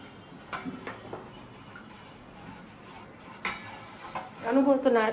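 Vanilla ice cream mixture stirred in a pot, giving soft intermittent scraping and clinking of a spoon against metal, with a louder burst of stirring near the end in a quiet kitchen.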